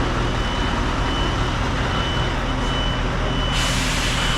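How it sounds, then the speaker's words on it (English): Scania V8 truck reversing into a bay, its reversing beeper sounding steadily over a loud diesel rumble close by, with no talk. "He's just gonna turn it around, gonna reverse in one of the bays"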